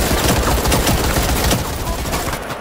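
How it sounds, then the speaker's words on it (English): Rapid gunfire in the VR shooter Firewall Zero Hour, a loud dense burst of shots crackling continuously before easing off near the end, with faint voices underneath. "I'm gonna turn and shoot."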